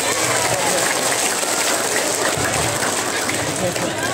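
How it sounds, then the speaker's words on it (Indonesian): Audience clapping at an Islamic religious lecture by a female preacher in a village in Pandeglang, a steady dense wash of applause filling the whole stretch, with murmuring voices mixed in. "Tepuk tangan dulu dong"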